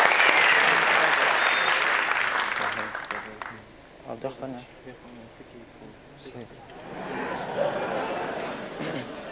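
Studio audience applause for contestants on a Family Feud-style Afghan game show, loud clapping at first that fades, with a host talking and some chuckles before clapping swells again.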